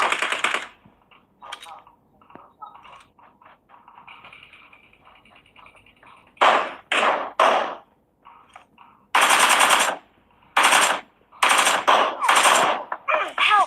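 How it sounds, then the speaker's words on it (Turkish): Bursts of automatic gunfire from PUBG Mobile, sharp and loud, coming in clustered rapid volleys with pauses between them, while quieter game sounds and voices run underneath earlier on. "Yukarıdan sıkıyor biri. Şu taraftan sıkıyor bak."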